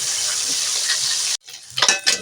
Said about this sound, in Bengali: এইভাবে ভালো করে মাছটাকে চালিয়ে নেবো দুবার নিতে হবে